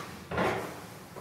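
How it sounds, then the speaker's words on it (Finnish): A kitchen drawer slid back along its rails and pushed shut, a single short rolling thud with a brief rumble, heard close up. "Laatikko asetetaan takaisin paikalleen työntämällä kiskot täysin taakse."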